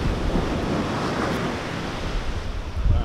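Heavy surf from a huge swell breaking inside Sydney Harbour, a steady broadband roar with wind buffeting the microphone and a slightly louder surge near the end.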